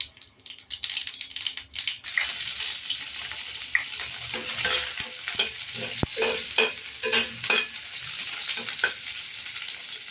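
Cumin seeds fry in oil for pithla, giving a close, crackling sizzle with repeated scraping and clinking of a spoon being stirred, irregular and busy throughout.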